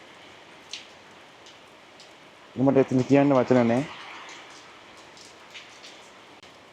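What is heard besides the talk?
rain falling on a roof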